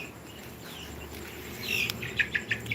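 Quail and chickens on a poultry farm give a few quick, faint chirping calls near the end over a low, steady background hum.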